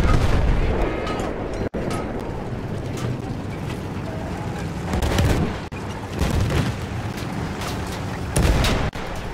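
Gunfire and heavy battle noise from the video game Battlefield 1 fill the mix: loud, dense, continuous explosions and shots with a rumbling low end, a couple of sharp dropouts, and no clear talk over it.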